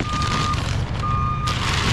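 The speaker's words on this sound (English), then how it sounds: "that beeping is a cop." Reversing beeps from a police vehicle backing up outdoors, two steady tones at a moderate distance under continuous low traffic and wind rumble.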